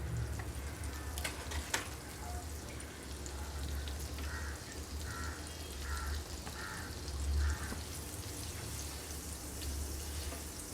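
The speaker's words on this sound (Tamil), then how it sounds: "இப்போ வந்து தவாவில் நான் பட்டர் கொஞ்சம் போடுறேன்" Butter sizzles and crackles steadily on a hot tawa griddle, a close, even frying hiss with a few small pops and clicks.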